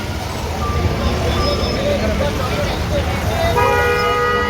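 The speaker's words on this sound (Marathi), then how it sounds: "महाबळेश्वरला लागलेली आहे ट्रॅफिक." Car horns tooting in a traffic jam in Mahabaleshwar, with a few short and one longer honk rising above a loud, constant hum of engines and traffic, and voices nearby.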